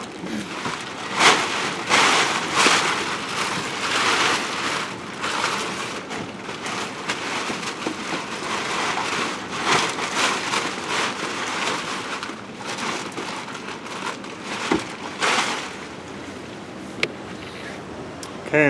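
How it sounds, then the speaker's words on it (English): Rain patters steadily on a tarp shelter in a back-step camp, a dense continuous hiss with scattered louder drops and gusts of wind throughout. "I hope it keeps the rain off of me."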